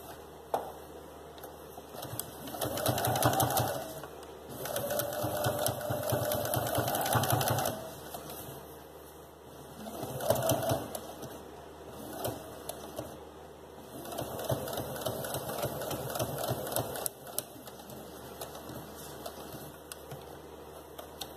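A sewing machine stitches a small shoe upper in rapid rattling bursts, several runs of a few seconds each, separated by pauses with a steady hum underneath.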